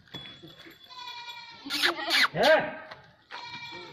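Barbari goats on a goat farm in Etawah bleat in a few loud, wavering calls close by, mixed with someone speaking between and over them.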